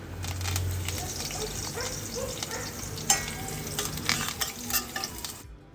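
Ginger sautés in coconut oil in a pan, a continuous close sizzle broken by several sharp scraping and stirring knocks from a utensil against the pan, with no one talking.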